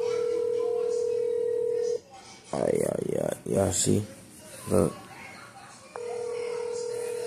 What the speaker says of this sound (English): About to call my Metro phone.